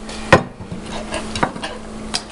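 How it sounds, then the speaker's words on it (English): Chopped red onion being tipped into avocado and stirred, a few soft scrapes and clinks of utensil against bowl with a steady faint hum underneath, close and quiet with no voices. "we want to add the onion to the avocado"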